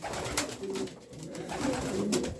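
Homing pigeons coo during mating, a few soft throaty coos close by with faint rustling and ambient background noise.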